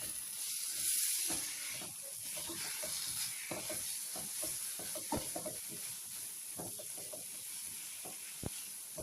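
Ground roasted garam masala being stirred into cooking chicken for chicken pasanday, a continuous close sizzle with repeated scraping stirs and spoon taps against the pan, no talking.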